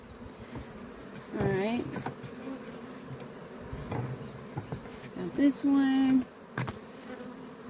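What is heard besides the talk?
bee swarm buzzing during relocation to hive box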